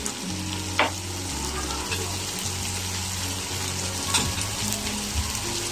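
Bell peppers, sweet or mixed-colour, sizzle and fry steadily in a pan while being stirred, a continuous close crackle with a couple of brief clattering stir sounds.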